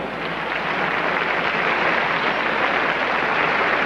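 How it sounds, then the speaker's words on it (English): Sustained, dense applause from a concert audience honoring concertmaster Glenn Dicterow at a New York Philharmonic gala with Luciano Pavarotti, steady and fairly loud without a break. "that applause is for concertmaster Glenn Dicterow"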